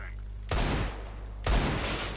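Two loud bursts of automatic gunfire crack out about a second apart in a competitive Counter-Strike: Global Offensive match, each a sharp broadband rattle that rings off briefly.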